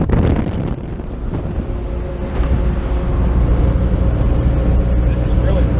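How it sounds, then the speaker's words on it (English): A 1972 Fiat 500L drives along Sicilian back roads and side streets, its steady low engine drone and road rumble continuous throughout, with wind buffeting across the microphone. "driving a 72 Fiat 500L, driving the side streets,"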